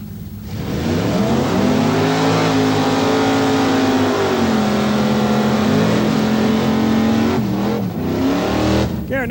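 Blaine Burton's number 6643 Pro Mod drag racing car launches with a loud, sustained engine roar, pitch rising and holding through shifts, then cutting off sharply near the end.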